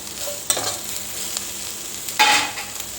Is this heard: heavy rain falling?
no